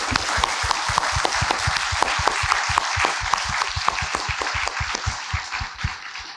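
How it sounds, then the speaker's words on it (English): A lecture audience claps steadily for several seconds, sharp individual claps standing out within a dense round of applause that tapers slightly at the end. "I think the Bartosz deserves one more round of applause."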